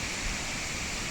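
Triple Falls waterfall near Kattappana giving a steady, hissing rush of falling water, an even wash of sound over a short stretch, with nobody talking.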